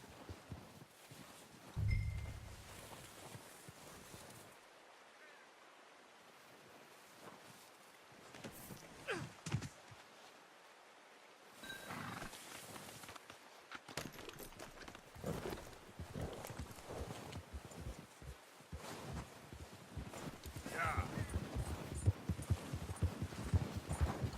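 Hooves of a horse clip-clop in the video game Red Dead Redemption II, a quiet, irregular walking rhythm that comes and goes over outdoor ambience and grows denser toward the end.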